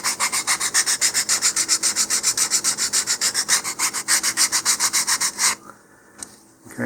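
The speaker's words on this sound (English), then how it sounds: "I'm just leaning in the sandpaper a little bit on each edge so that it moves toward the middle" Sandpaper rubs along the balsa wood edge of an Apogee Kestrel model rocket in fast, steady back-and-forth strokes, close and loud for several seconds, then stops, leaving faint scrapes.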